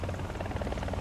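Steady whirring drone of a helicopter in flight in the video game War Thunder, a continuous low buzzing rotor hum at even level throughout.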